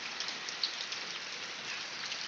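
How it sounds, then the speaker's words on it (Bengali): Heavy downpour falling outside, a steady, dense hiss of rain spread evenly through the whole stretch with no voices. "বাইরে কিন্তু মুষলধারা বৃষ্টি পড়তেছে"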